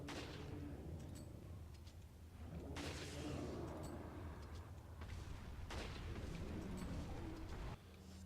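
Gunfire in the Resident Evil 4 video game, heavy booming shots spaced a few seconds apart over a constant dense rumble of ambience.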